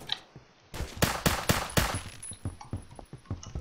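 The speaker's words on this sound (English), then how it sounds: "This is a burst pistol mode." A burst-mode pistol in the Roblox video game fires a rapid series of sharp, close shots, followed by fainter, spaced pops trailing off.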